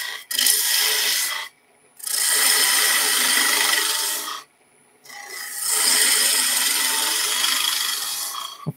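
A bowl gouge cuts wood on a lathe while an acorn box is being turned, giving three long, bright scraping passes separated by short pauses. The sound is close and steady, with no talking.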